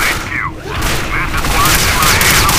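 Rapid gunfire booms and crackles in the video game Quake IV, dense and loud across the whole moment, with voices partly buried beneath the shooting.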